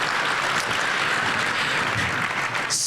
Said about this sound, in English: Please give a thank you round of applause to Mr. Paul